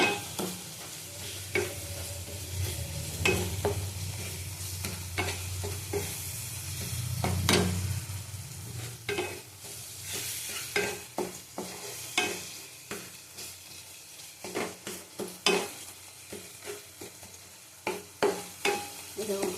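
Spices with Kashmiri chilli powder sizzle gently in a pan while a spoon scrapes and stirs in repeated sharp clicks, the frying hiss low and steady beneath the utensil taps.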